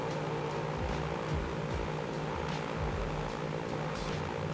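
Propeller airplane cruising at altitude in the video game Transport Fever 2, a steady continuous engine drone with a low throb running throughout, moderately loud and with no voices.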